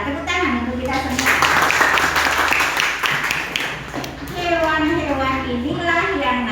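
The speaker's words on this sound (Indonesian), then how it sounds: "Tepuk tangan untuk kita semua." Children in a classroom clap together for about three seconds, a dense burst of applause that then gives way to a teacher's voice talking over a faint background hum.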